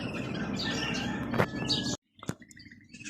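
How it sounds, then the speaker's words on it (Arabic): A canary sings in a bird breeding enclosure, its thin high chirps and trills close by over a steady background hum, broken by a brief pause. "اسمع هسه وراي صوت تغريد كناري."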